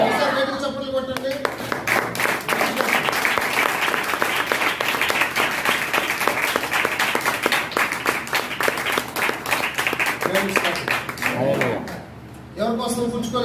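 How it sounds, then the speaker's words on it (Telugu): A church congregation claps hands together during a sermon, a dense, sustained burst of applause lasting several seconds, with a voice speaking before and after it. "చప్పట్లు కొట్టండి"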